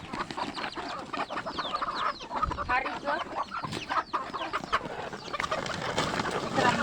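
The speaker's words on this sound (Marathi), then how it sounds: "माझ्या कोंबड्यांना दाणे टाकायचे आहेत तर माझ्या कोंबड्या त्या तिकडं आहेत" Several chickens cluck and fuss close by, busy overlapping calls with scattered rustling and movement, no talking.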